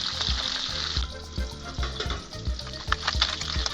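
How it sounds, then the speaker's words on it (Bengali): Tangra fish frying in hot oil for a Bengali fish curry, a steady close sizzle with repeated soft clatters as the pieces are turned, no voices. "ওলট পালট করে দেবো যাতে মাছটা ভালো করে ভাজা হয়"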